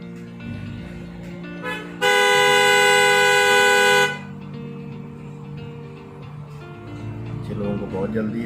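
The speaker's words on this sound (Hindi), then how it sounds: "लोगों को बहुत जल्दी है, हॉर्न दे रहे हैं।" A car horn blasts loudly and continuously for about two seconds in street traffic at Sheikhupura, with shorter honks and engine rumble around it and a person talking nearby.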